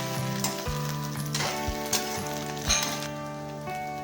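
Fish roe fries in a pan for a homemade local fish curry, a gentle continuous sizzle with scattered stirring taps and soft thumps, close by and without speech.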